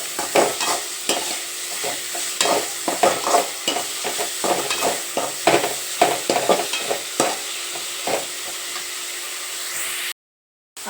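Chicken gravy masala being stirred and fried in a pan until brown, a steady close sizzle broken by repeated scraping stirs at an uneven rhythm, with no voices, ending in a brief silence.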